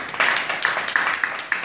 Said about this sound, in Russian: Аплодисменты, Оля